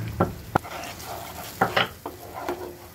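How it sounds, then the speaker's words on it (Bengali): Masala with tomato, dried chilli, cardamom, bay leaf, sugar, salt and turmeric frying in a pan, a soft sizzle broken by several sharp scrapes and taps of a spoon stirring against the metal, close and without talk. "মশলাটাকে ভালো মতন ভাজা করে নিব"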